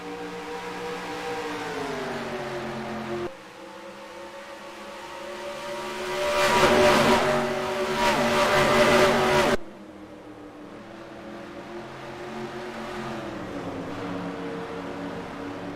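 In the NASCAR Racing 2003 video game, a line of race cars runs nose to tail, their engines droning steadily before swelling into a louder, rougher roar and then settling back to the even hum.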